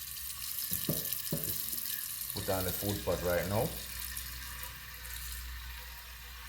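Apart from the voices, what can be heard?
water running from a tap into a cooking pot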